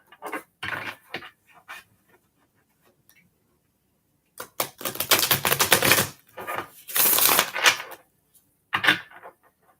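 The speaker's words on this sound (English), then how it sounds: "One more shuffle." Tarot cards are shuffled close by in bursts of crisp riffling and flicking, with a few short clusters followed by a longer, louder run of shuffling and a final quick flurry.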